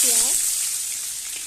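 Onion and bay leaf frying in hot oil in a wok, a steady close sizzle that begins loud as they hit the oil and eases slightly over a second and a half, with a brief voice-like tone at the start.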